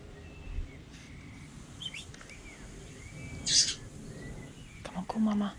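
Faint, thin chirps from a baby bird, with one brighter burst midway, over a low rumbling background with soft murmuring.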